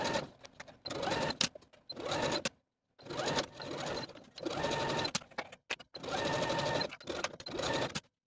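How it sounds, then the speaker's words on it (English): A sewing machine sewing hems on a knit dress whirs in several steady bursts separated by short pauses, close and fairly loud, with no talking. "Now I'm going to take the dress to the sewing machine and sew my hems in place"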